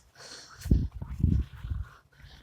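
Dogs bark and yelp close by at an abandoned military site turned into a dump, a quick cluster of rough barks over a low outdoor background.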